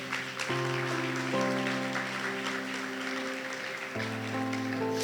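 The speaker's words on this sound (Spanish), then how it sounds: "Dale un aplauso a nuestro Dios" A church congregation applauds, a steady wash of clapping that runs throughout while sustained music tones play underneath.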